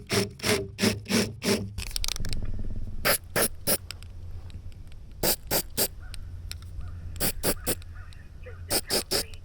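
Hand bevelling of drilled holes during servicing of a Caterpillar 304C mini excavator: bursts of rapid, rhythmic scraping strokes of a tool against metal, close and fairly loud, with pauses between groups of strokes.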